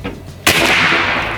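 A single loud, sharp report from an AEA HP Max 457 big bore airgun firing a slug, a sudden crack followed by a sustained ringing tail, with no talking.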